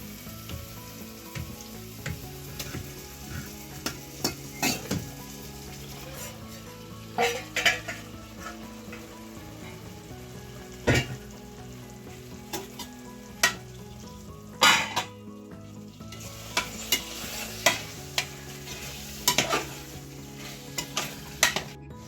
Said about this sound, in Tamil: அதனால இப்ப சிக்கன் போட்டு நல்லா வதக்க போறோம்.